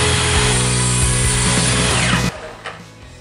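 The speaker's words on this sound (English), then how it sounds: "So I set up my cupex with my aluminum saw blade, and shouldn't be that big of a problem, small profile." A chop or cross-cut saw fitted with an aluminum-cutting blade runs loud and steady as it cuts a small aluminum profile, then spins down over the last second.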